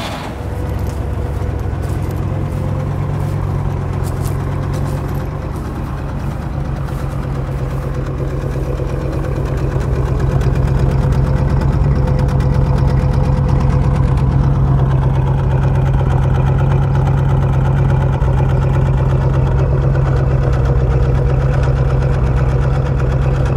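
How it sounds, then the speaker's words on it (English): A 1957 Cadillac Eldorado Brougham's 335-horsepower V8 idles steadily up close, a deep even rumble that runs for the whole clip and swells slightly partway through, with no voices. "335 horsepower of unbridled Cadillac V8 power"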